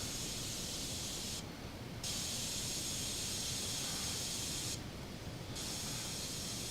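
A spray nozzle in PC Building Simulator 2 gives a steady, loud hiss that runs almost continuously, with two brief dips in the highest part of the spray.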